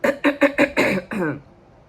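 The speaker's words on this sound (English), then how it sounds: "Let me clear my throat" Five or six quick, throaty vocal bursts in a row, close up, like someone clearing their throat before speaking.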